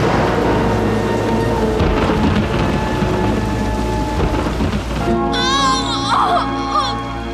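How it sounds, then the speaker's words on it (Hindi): Heavy rain pours down at night with rumbles of thunder, a dense, loud and constant roar. Near the end, sustained tonal sounds rise over the downpour. "रात के इस सन्नाटे में इतनी बारिश हुई"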